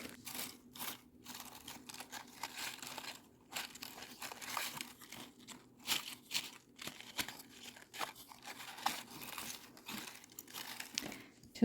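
Crinkly paper shreds rustle and crunch continuously at close range as they are pressed into a handmade Easter basket, soft and busy throughout with no talk.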